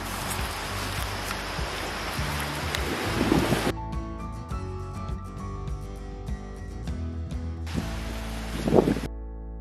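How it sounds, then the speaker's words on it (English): Strong outdoor wind roaring and buffeting the microphone in broad noisy bursts, heavy at the start and again near the end, with a calmer tonal stretch between. "it's still really windy out, so I'm not even gonna try and talk outside"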